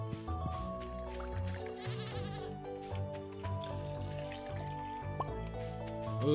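Goat bleating in the farming video game Stardew Valley, a few short bleats over soft, tonal background game music, fairly quiet, with no talk.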